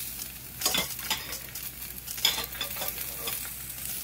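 Steady sizzle of garlic and bok choy frying in a pan, with a few louder stirring scrapes over the continuous crackle; no talking.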